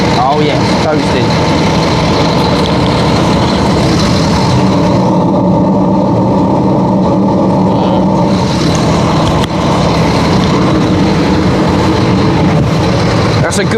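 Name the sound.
crane truck engine roaring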